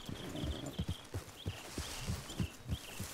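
Horse hooves clip-clop at a steady walking pace in the video game Red Dead Redemption 2, each footfall distinct and close, with faint background ambience and no voices.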